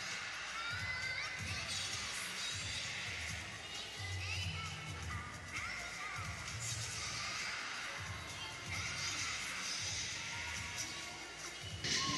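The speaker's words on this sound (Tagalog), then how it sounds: "Good crowd we have here at the Phil Sports Arena for our triple header today." A crowd cheers and shouts throughout a volleyball match at the Phil Sports Arena, a dense, continuous roar with scattered thumps from the court and loud, steady excitement.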